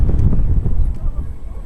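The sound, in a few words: wind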